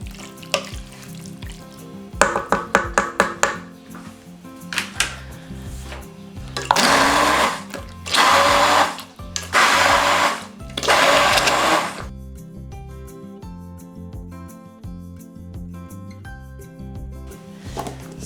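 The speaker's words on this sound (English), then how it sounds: "then you just blend it with your immersion blender." An immersion blender whirs through a food mixture of wine or juice and salt, running in several loud bursts separated by short pauses, after some clattering and preparation noises in a kitchen.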